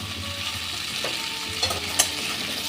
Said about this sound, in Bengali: এবার মাংসটা একটু ভেজে নেব যতক্ষণ না জলটা মরে যায়।